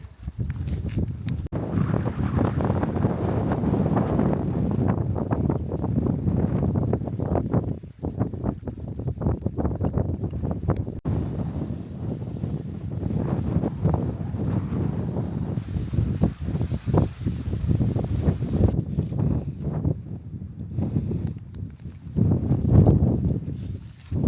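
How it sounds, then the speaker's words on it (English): Strong wind buffets the microphone on exposed, boggy moorland near Glossop, a continuous loud roar of gusts with no talk over it. "very windy and cold up top"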